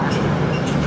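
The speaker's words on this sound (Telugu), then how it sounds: "ట్రైన్ రోడ్డు మీద వెళ్తుంది బాయ్," A deep, steady rumble of a train rolling past along a road nearby in Leh, Ladakh, loud and continuous through the short moment.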